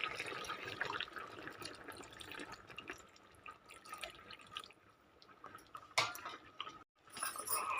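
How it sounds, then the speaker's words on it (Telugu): Tamarind water being poured into a boiling fish curry: soft continuous trickling and dripping with light clinks of utensils, a brief louder splash near the end, moderately close and without talk. "ఇప్పుడు ఇలా ఉడుకుతున్నప్పుడు మనం చింతపండు పులుసు అనేది వేసుకోవాలి."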